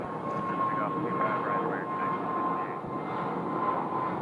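Steady jet engine roar of an American airliner taking off from runway 25 right at Phoenix airport, a continuous distant rumble with a faint tonal whine and no speech.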